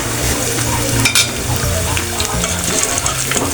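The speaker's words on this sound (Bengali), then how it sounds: "এই দেখেন আমি এইভাবে ভেজে নিচ্ছি।" Potato pakoras frying in hot oil, a loud continuous close-up sizzle and bubbling with a brief utensil clink partway through, no talking.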